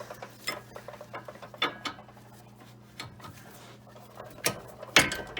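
Wrench working a heated sway bar link nut on a Chrysler Town & Country / Dodge Grand Caravan, giving scattered metallic clicks and ratcheting taps over a low steady hum, with a sharper clank near the end.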